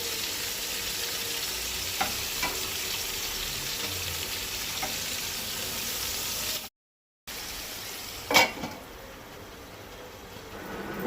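Stuffed capsicum sits roasting in a pan with a steady, close sizzle and stirring noises, cut by a brief silent gap and followed by a sharp clatter, with no talk.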